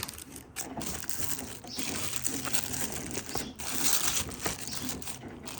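Plastic bag crinkled and torn open up close, with quiet crackling rustles, sharp crinkly bursts and brief pauses in between.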